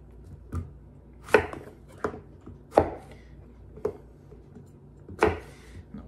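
A knife chops vegetables for a summer skillet, yellow zucchini among them, on a cutting board, landing about six sharp, uneven strikes with short pauses between them. The sound is close and clear, with no talking.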